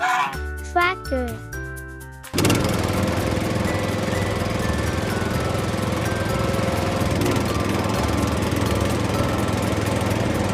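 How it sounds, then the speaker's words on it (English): A farm tractor engine runs steadily and loudly after a short musical jingle, a continuous rumbling drone that holds constant to the end. "Tractor."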